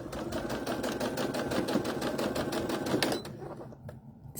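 A sewing machine stitches fabric with a fast, steady mechanical chatter of needle strokes, close and moderately loud, and then stops with a few soft clicks at the end.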